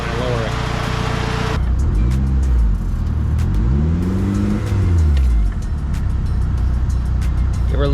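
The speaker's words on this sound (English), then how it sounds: "Give her a little rev for a good measure, get that water pump spinning a little faster." A 1998 Mitsubishi Eclipse with an overheating problem idles close by, then gets blipped twice, the engine note swelling and falling each time before settling back to a steady idle.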